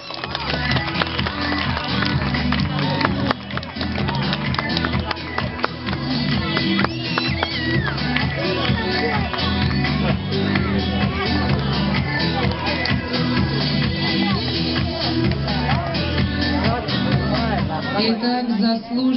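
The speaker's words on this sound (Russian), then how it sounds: "Итак, заслуженные аплодисменты." Audience at a sea lion show applauds and cheers in a dense, steady wash of clapping that runs loud and unbroken from start to finish.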